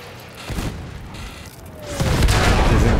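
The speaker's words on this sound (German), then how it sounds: "Da ist der Panzer das erste Mal explodiert" A tank blows up in the Battlefield 1 video game: low rumbling combat noise builds, then a heavy, loud explosion swells and sustains near the end, with no talking.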